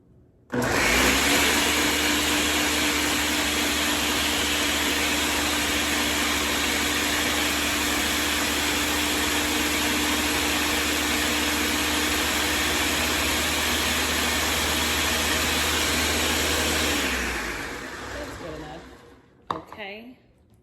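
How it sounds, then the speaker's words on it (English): An electric blender whirs continuously and loudly for about sixteen seconds while blending jerk chicken marinade with whole cloves, then winds down and stops, followed by a few faint clicks. "we're going to blend that up again with the whole cloves in it"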